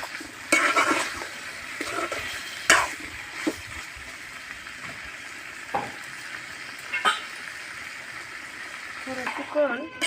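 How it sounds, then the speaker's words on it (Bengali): Chicken pieces frying in spiced masala sizzle softly in a pan while a spoon stirs and scrapes in occasional sharp knocks, and a voice talks over the cooking throughout. "কিছুক্ষণ মশলা দিয়ে আমি ভেজে নেব"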